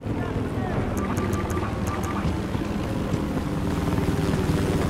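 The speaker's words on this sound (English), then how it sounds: "spotted a transport chopper" A transport helicopter in the Battlefield Hardline game thrums steadily with a loud, continuous rotor wash, with a few sharp high clicks early on.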